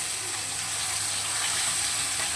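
Pieces of hilsa fish frying in very hot oil as they are flipped, giving a dense, steady sizzle that stays loud and unbroken throughout.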